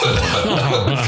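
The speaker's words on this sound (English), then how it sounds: "but then I had a cough" A single short, harsh cough from a man, close and loud, filling the brief moment on its own.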